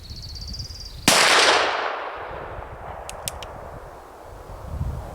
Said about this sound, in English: So now let's use those techniques and see if I can shoot accurately.